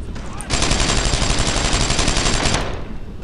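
Sustained automatic fire from an MG-42 machine gun in the WWII shooter Brothers in Arms, a loud, rapid rattling burst lasting about two seconds, close and dominant with little else audible.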